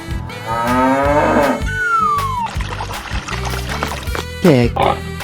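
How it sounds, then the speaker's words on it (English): A bull moos in a 3D animal slide game, a drawn-out lowing call set against busy game music and sound effects, with a voice briefly audible. "Bull."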